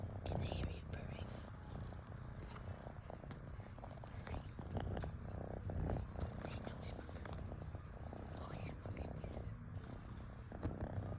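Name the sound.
cat purring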